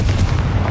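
A Confringo blasting curse goes off in Hogwarts Legacy beside an altar with bones near a sarcophagus, a short, dense, booming burst of low rumble that fills the whole moment with no voices.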